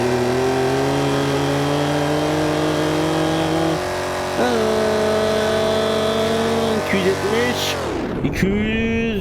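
A fast car in BeamNG.drive holds a steady, loud engine drone with high harmonic whine, shifting pitch briefly midway, then dropping sharply near the end as it slams into speed bumps, with a voice talking underneath.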